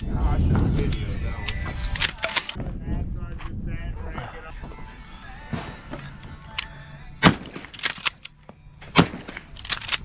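A .410 shotgun fires during an outdoor dove hunt, with several sharp, close reports spaced apart over wind noise, while people talk casually between the shots.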